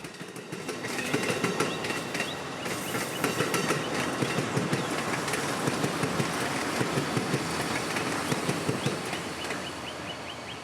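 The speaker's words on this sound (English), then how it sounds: "backing their train across the diamond towards the station, shoved by one of Amtrak's 250th anniversary locomotives in the lead position" An Amtrak passenger train backs slowly across a railroad diamond toward a station, shoved by an anniversary-liveried locomotive at the lead; a steady rumble with repeated clickety-clack wheel impacts rings out close by throughout, with no talk.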